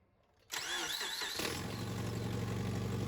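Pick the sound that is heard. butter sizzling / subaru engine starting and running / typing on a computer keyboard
subaru engine starting and running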